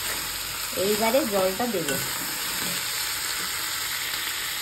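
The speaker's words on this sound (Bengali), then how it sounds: "কাঁকড়াটাকে মশলা দিয়ে একদম সুন্দরভাবে কষিয়ে নিয়েছি আর দেখো মশলাটা থেকে তেলও ছেড়ে এসছে" Crab frying in a spice masala in a pan, stirred with a soft sizzle and scraping over steady background hiss, with a short burst of stirring noise near the start.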